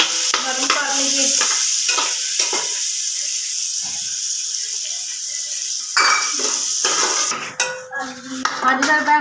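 Onions frying with garlic in a pan give a loud, close sizzle and hiss, with clattering spoon-against-pot stirs coming in bursts, heaviest at the start and again toward the end.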